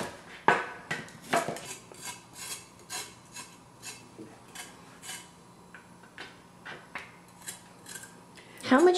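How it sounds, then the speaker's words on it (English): Knife cutting ginger and seasonings for kimchi on a board, a series of sharp close chops and scraping strokes in an uneven rhythm, with quiet pauses between them. "I'm going to cut up the rest of the seasonings and the ginger"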